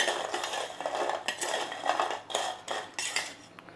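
Roasted cashews tossed with salt and spice in a pan, making a run of repeated scraping, rattling strokes in uneven bursts, fairly close and moderately loud, with no voices.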